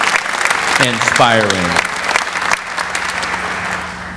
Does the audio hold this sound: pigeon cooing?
no